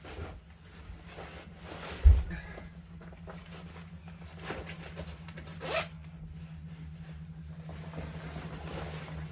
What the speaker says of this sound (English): So all the sailing gear has got zips and then Velcro tabs on it.